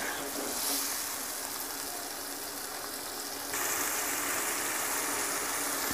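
Beef liver fries with green chillies in yogurt water in a pan, giving a steady, busy sizzle and hiss that keeps going, growing slightly louder partway through, with no talking.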